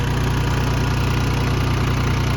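A 28-horsepower four-wheel-drive tracked machine used for logging pine idles steadily nearby, its engine putting out an even, continuous low chug with no breaks and no voices.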